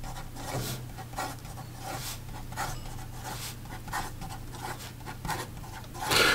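A Visconti Limited Edition Wall Street fountain pen with a heavy ink flow writes fast on paper, giving a steady run of soft nib scratches over a faint constant hum, with a louder rustle at the end.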